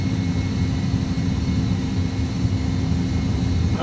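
An Airbus A320's engines roar at takeoff thrust on the runway in a strong 38-knot crosswind, a steady, loud, deep rumble heard from the cockpit with no break.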